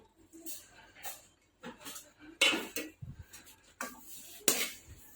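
Ground almonds being stirred into roasted gram flour in a metal pan for panjiri, with repeated scraping and clinking of a spoon against the pan in short bursts, close and fairly quiet.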